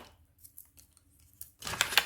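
Paper cut with scissors while assembling a Star Wars photo album page, a few soft snips early on, then a louder burst of close crisp cutting toward the end.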